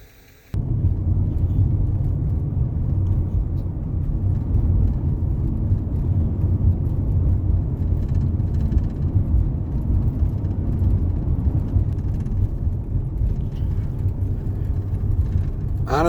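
A car drives along a road just outside Canyonlands National Park in Utah, giving a steady, loud low rumble of engine and road noise that continues without a break and with no talking.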